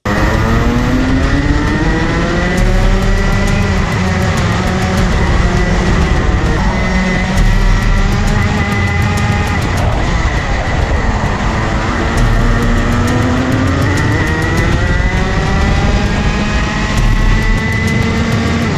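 Racing karts scream together at the start of a kart race final, engine whines rising and falling in overlapping pitches, loud and continuous with no talk.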